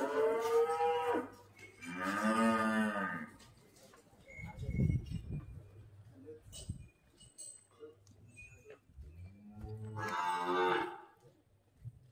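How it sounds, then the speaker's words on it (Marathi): A Jersey cow moos several times in long, deep, drawn-out calls close by at a cow shelter, with brief voices and birds cooing faintly in the gaps. "तर काय हे बघा जर्शी गाय."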